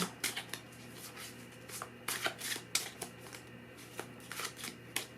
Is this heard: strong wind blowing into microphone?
no